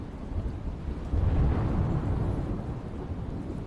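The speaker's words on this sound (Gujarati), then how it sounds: "ધોધમાર વરસાદ જોવા મળ્યો હતો" Heavy monsoon downpour over a Gujarat village, a steady dense roar of rain with deep rumbling thunder swelling in the middle, loud and continuous with no voices.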